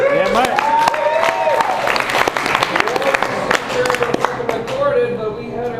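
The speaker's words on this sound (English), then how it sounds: "give yourselves a round of applause, really" Audience applause at a comedy show at the Gold Rush, loud clapping mixed with a voice talking over it, with some crowd noise underneath.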